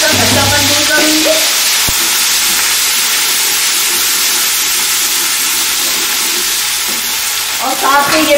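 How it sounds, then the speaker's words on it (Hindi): Ginger garlic paste hits hot oil in a pan during biryani cooking, setting off a loud, continuous close-up sizzle and hiss that holds steady throughout, with a brief clatter of stirring at the start and end. "अब मैं 1-1 चम्मच अदरक लहसुन का पेस्ट डाल रही हूँ"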